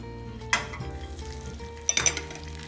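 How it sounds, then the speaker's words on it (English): Olive oil and butter in a hot pan, with metal clinks and clatter at two points over a low steady sizzle. "put a little dash of oil in and then add some butter to that"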